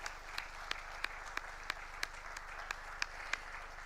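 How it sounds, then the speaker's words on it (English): A small audience at a sports start-up conclave claps for the top eight finalists, faint, sparse, fairly distant applause with individual sharp claps standing out roughly three times a second over a low electrical hum. "I want everybody to give a round of applause for all our top 8 finalists"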